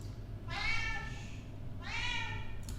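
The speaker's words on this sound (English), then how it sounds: "My cat." A pet cat meows twice indoors, two drawn-out rising calls spaced about a second apart over a low steady hum.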